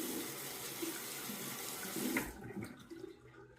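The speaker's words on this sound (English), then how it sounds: "let me go ahead and wet the razor here" Water runs from a sink tap in a steady close rush to wet a Parker 96R safety razor, then cuts off, leaving a few faint drips and clinks.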